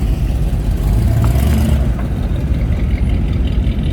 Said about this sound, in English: I'll get out of the way. I hear a car coming.